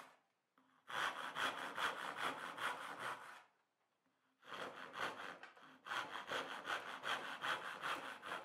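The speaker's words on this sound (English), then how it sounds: "I'm using a saw and a chisel to clear the waste." A hand saw cuts through wood in quick, steady back-and-forth strokes, two bursts of rasping sawing separated by a short pause, close up.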